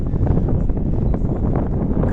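Steady low rumble of light wind buffeting outdoors in Istanbul near sunset, a constant breezy roar without speech.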